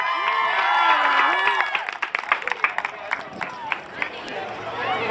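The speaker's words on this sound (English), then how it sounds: "Give him a massive cheer for Van Tam." A crowd at a Relay For Life charity event cheers and applauds for Van Tam, scattered claps and whoops following a host's amplified voice that opens the moment.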